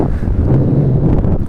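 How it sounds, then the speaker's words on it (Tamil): Strong wind from an approaching cyclone buffets the microphone outdoors, making a loud, continuous low rumble for the whole moment with no voices. "நல்லா காற்றடிக்குது."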